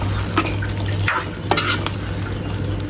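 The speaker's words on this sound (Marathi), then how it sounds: "रेडी म्हणजे थोडंसं शिजवून देतं मग नंतर करते गॅस बंद." Milk halwa is stirred in a pan over the gas, with a steady scraping and sizzling sound and a few sharp clicks of the spoon against the pan, close and continuous.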